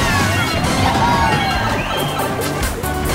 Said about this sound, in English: That noise is how many combo noises we're getting.